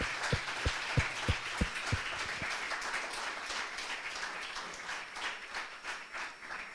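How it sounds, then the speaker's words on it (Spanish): A church congregation answers the preacher's call to applaud. A handful of loud, distinct claps come first, then they blend into softer, spread-out clapping that carries on for several seconds. "Dale un aplauso. Dale un aplauso a Él."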